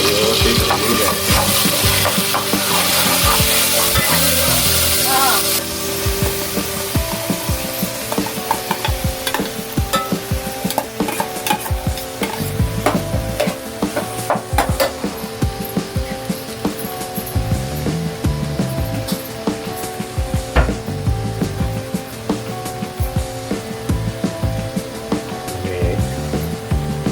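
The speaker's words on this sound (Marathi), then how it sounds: "हा जो भात आहे थोडा मिक्स करून घेतला आहे, कारण आतमध्ये दही टाकलं होतं" Rice mixed with curd is stirred in a pan, with repeated scraping and clinking spoon strokes over a constant sizzling hiss, loud and close.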